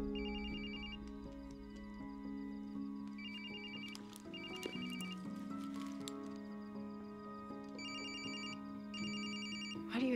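A mobile phone rings with a repeating electronic ringtone, its short bursts of tone recurring across the scene under quiet background music.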